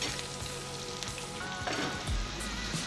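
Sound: chillies frying in oil

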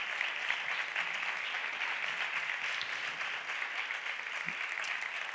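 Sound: audience applause

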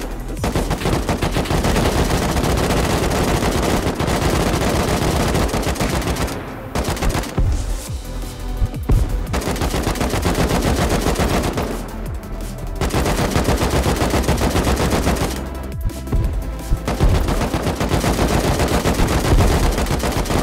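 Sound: gunfire from the video game Rust

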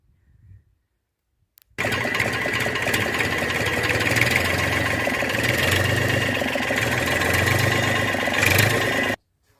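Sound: tractor engine running

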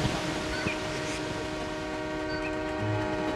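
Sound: Pingxi Line train passing

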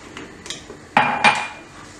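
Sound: stirring bread pudding mixture in a pan

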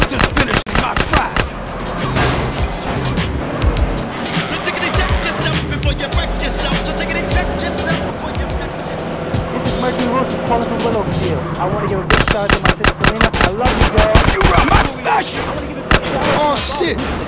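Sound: gunfire during a drive-by in video game GTA San Andreas

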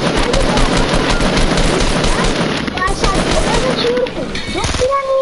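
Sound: gunfire in a PS4 video game

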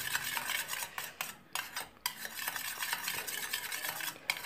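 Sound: stirring a lemon teeth-whitening mixture with a spoon

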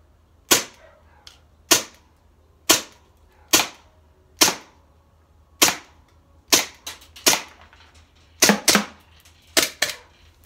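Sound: Armorer Works airsoft 1911 pistol firing

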